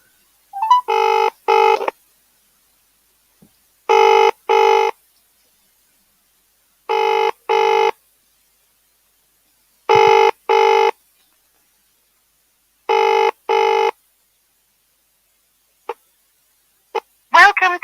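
Telephone ringback tone on an outgoing mobile call, repeating double rings at steady intervals, loud and clear with no talk over it, a few brief clicks near the end.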